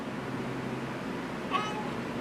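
A single short cat meow rises briefly over a steady low background hum, faint and close by.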